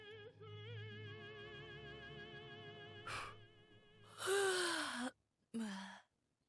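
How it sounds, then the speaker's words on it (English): A game character yawns in Martha Is Dead, a drawn-out breathy yawn rising and falling near the end, following a long sustained tonal musical drone, with a short breath after. "she can yawn just fine"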